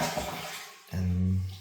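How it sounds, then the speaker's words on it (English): An all-in-one toilet with its water supply shut off is flushed during a running-toilet repair, giving a loud rushing gush with a low, steady drone that starts abruptly after a brief lull and carries on close by. "And then you're gonna flush the toilet."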